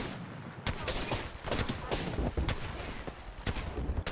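Gunfire in the video game Apex Legends: a dense, loud run of rapid shots and impacts lasting about four seconds, irregular bursts layered over constant in-game noise.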